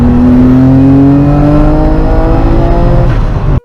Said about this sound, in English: The 1999 Nissan Skyline GT-R R34 didn't just arrive, it roared into the scene